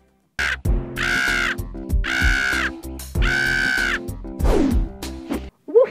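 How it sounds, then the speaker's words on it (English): Loud, harsh crow caws from a movie sound effect, three drawn-out calls in steady succession over a low pulsing music bed, with a brief scraping noise near the end. "What is it with the bird sound effect?"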